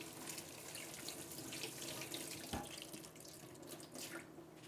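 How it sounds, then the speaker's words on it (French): Water runs steadily from a faucet over alfalfa seeds being rinsed in a sink, a continuous close splashing flow with a brief knock midway. "Là, je vais rincer encore un petit peu plus."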